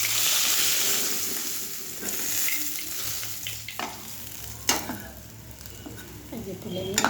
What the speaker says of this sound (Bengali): এটা মাছ ভাজা হয়ে গেছে